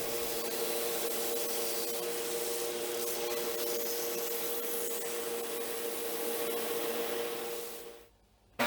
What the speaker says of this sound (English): Use a belt sander or a wood file or some sandpaper to clean up your cuts and to smooth